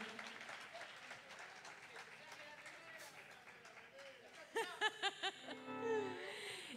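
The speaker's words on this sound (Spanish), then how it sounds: "Se merece un aplauso." Audience applause at an alternative music festival concert, steady crowd clapping and cheering at moderate distance for several seconds before a voice and a few louder hits break in near the end.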